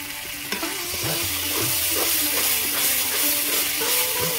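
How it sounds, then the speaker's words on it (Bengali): Turmeric, cumin and coriander powder fry in a pan and are stirred at intervals, a steady sizzle broken by the regular scrape of a spoon. "ভালো করে কষিয়ে নেব।"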